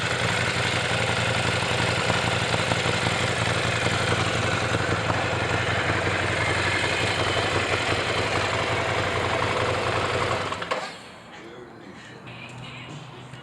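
A 2017 Ducati Scrambler Cafe Racer motorcycle engine idles with a steady, throaty rumble held close for about ten seconds. It then drops off abruptly, leaving a faint hum.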